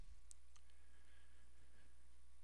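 A few quick mouse clicks land close and faint while navigating a WordPress theme editor, with a steady low electrical hum underneath and no talking.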